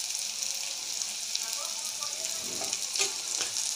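Cumin seeds hitting hot oil in a pan with chopped onion, a steady loud hiss of sizzling with a few crackles and a stirring scrape near the end.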